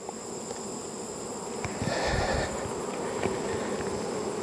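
Bees buzz in a hive with ten frames full of bees, a dense continuous drone close by that swells slightly midway, with faint clicks and knocks from handling.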